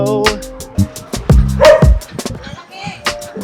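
Cane Corso dogs bark in repeated deep, loud bursts at close range during a community pack walk, with a person talking briefly between the barks.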